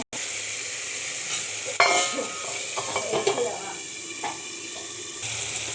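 Fish pieces cooking in a spiced masala in a covered pan give a low, steady sizzle and simmer with a few soft clatters and stirring knocks. The sound stays fairly quiet and close, with no talking over it.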